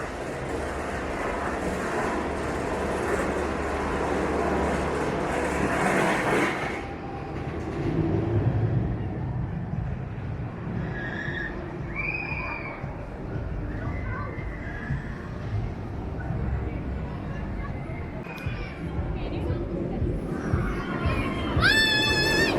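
Untamed, a roller coaster at Walibi Holland, rumbles and roars loudly along its track, then fades into a softer ambient rush with faint distant screams and chatter.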